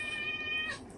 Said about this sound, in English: that's my cat. Sorry, he's hungry.